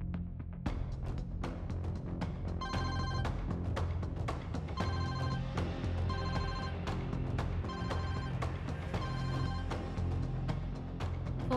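A telephone rings unanswered in repeated bursts of bright electronic trills, evenly spaced, near and clear against a low steady hum, with no one picking up or speaking.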